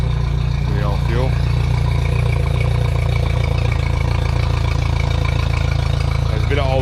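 A boat outboard engine that has been laid up on old fuel runs loud and close with a steady, slightly rough idle throughout, and faint talk sits beneath it.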